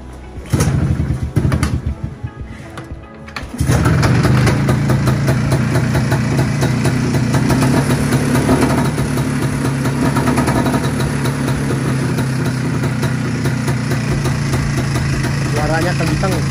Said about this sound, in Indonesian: Yuk kita coba starter motor ini.